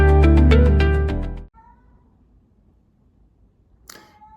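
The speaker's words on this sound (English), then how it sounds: "I don't know if you guys heard my cat meowing or not" A cat meows loudly in a drawn-out, tonal cry, then near-silence follows with a brief faint sound near the end.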